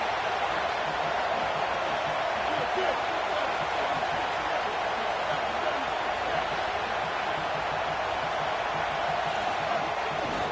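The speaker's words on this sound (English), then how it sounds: "how nice is it to have the home crowd going absolutely bananas" A home stadium crowd at a football game keeps up a loud, continuous roar of cheering, a dense wall of noise with a commentator's voice under it.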